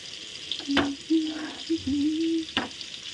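Rohu fish pieces and fish roe fry in a pan with a soft, steady sizzle, broken by a few sharp spatula clicks against the metal.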